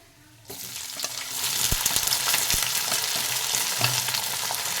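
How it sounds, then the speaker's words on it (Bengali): Chopped onions dropped into a pan of hot oil with cinnamon, cardamom and cumin, bursting into a loud continuous sizzle with occasional stirring scrapes. "সব পেঁয়াজগুলোকে ভালো করে ভেজে নেব"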